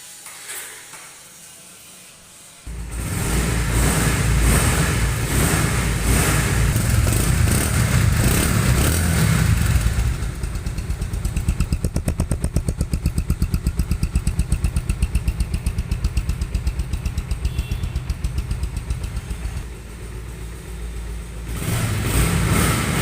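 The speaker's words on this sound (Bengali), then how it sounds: "দেখেন বাইকটির সাউন্ড কোয়ালিটি কী অবস্থায়" A 2024 Bajaj Pulsar single-disc motorcycle idles quietly, then its engine is revved hard and held at a loud, buzzing high pitch with a steady pulsing beat, dropping slightly before rising again near the end; close and alone, no talk.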